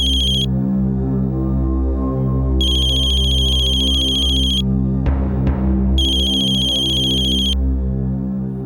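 A telephone rings in three long electronic bursts with pauses between, over a steady low hum, with a brief clatter near the middle.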